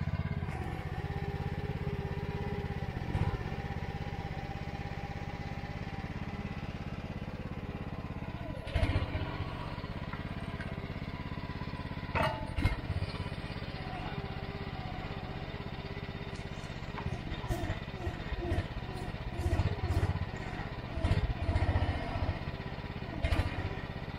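The engine of a Mygale 600 micro excavator runs steadily while cutting an enduro cross track, a continuous mid-level drone with occasional clanks and knocks from the machine, with no talking.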